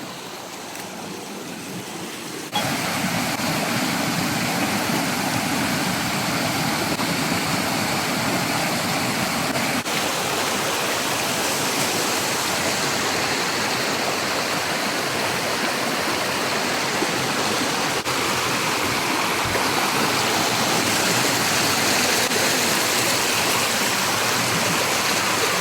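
The Cabutonan waterfall in Samar, Philippines roars as a loud, continuous rush of falling water that fills the whole scene without pause.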